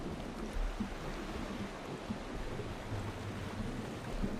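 In the dungeon crawler game Legend of Grimrock 2, an underwater area gives a low, muffled, steady rumble with a faint watery wash and no distinct events.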